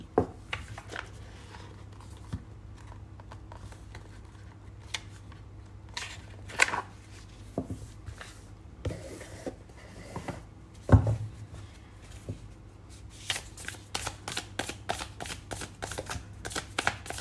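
Tarot cards being shuffled and handled, soft irregular riffling and flicking taps that come in scattered bursts, quiet and close, growing busier and denser in the last few seconds.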